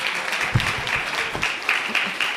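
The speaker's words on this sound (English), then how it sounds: "let's give Professor Hoheisel another round of applause." Steady applause from an event audience, a continuous patter of many hands at moderate loudness with a few louder clap bursts rising out of it.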